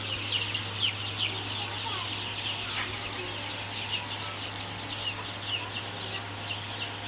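Sonali super hybrid chicks in a poultry shed keep up a constant chorus of soft, high cheeping calls over a steady low electrical hum, probably from a fan, with no talking.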